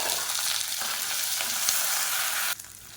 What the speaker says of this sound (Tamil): வெங்காயம் இந்த அளவுக்கு நல்லா கோல்டன் கலரில் வதங்கிடுச்சு